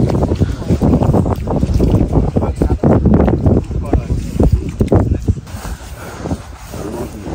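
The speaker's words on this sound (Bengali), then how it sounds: "আমাদের নৌকা" A small boat out on open water in the remote Sundarbans, with strong wind buffeting the microphone in loud continuous gusts and rushing water throughout, easing slightly near the end.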